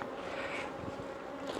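Honey bees hum softly and steadily around an open hive at a remote cabin apiary, a faint continuous buzz with no voices.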